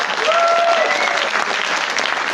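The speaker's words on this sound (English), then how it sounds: "let's give them one round of applause" Film festival audience giving a round of applause, a short, loud burst of many hands clapping together, dense and steady, with a faint voice or whistle-like tone briefly over it.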